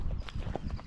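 Hooves of a Tennessee Walking Horse in gait training, sounding as a run of soft, close clip-clop footfalls at a steady walking rhythm over a constant low background rumble.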